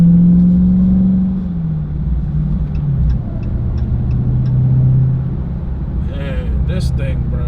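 A 2022 Dodge Charger Hellcat widebody accelerates from inside the cabin, its deep engine note rising then dropping sharply at an aggressive gear shift and climbing again, with people talking over the rumble.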